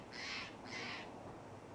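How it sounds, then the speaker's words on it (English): Outdoors on a calm day, two harsh caws from a crow-like bird sound in quick succession, faint and distant, with no other sounds around them. "my birds are out"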